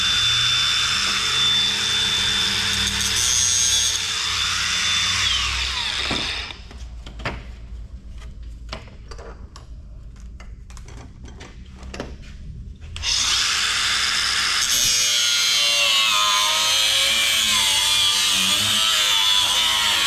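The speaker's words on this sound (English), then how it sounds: "So grinders come in really handy for doing that," A grinder cutting junk off an electronic scrap board, a loud steady high whine that drops away in the middle to sparse clicks and rattles, then returns at full strength, close and alone.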